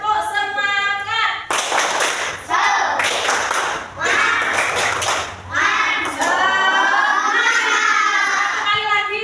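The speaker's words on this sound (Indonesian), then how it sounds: "Sekali lagi yuk, tepuk semangat." A group of young Indonesian schoolchildren doing a rhythmic spirit clap (tepuk semangat), loud bursts of patterned clapping mixed with children's chanting and shouts, with an adult voice leading between rounds.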